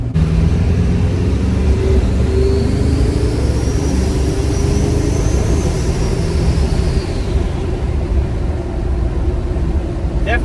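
Duramax diesel pickup truck with tow mode engaged pulling away under acceleration, heard from inside the cab as a loud, sustained engine drone with a rising turbo whistle, with brief voice sounds underneath.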